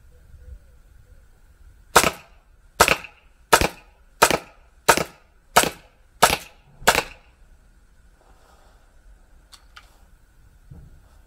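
A Glock 17 Gen5 airsoft pistol fires at a cardboard target, eight sharp snapping shots in a steady rhythm about one per second, close and loud against a quiet outdoor background, then silence.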